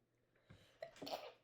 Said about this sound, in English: Just keep sneezing today.